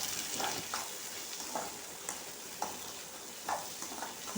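Brinjal pieces fry in hot oil with turmeric, a steady loud sizzle broken by regular scraping stirs about every half second, close up with no talking.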